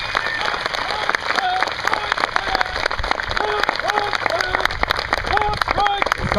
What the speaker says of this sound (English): Please give Drill Sergeant Monkey and these soldiers a round of applause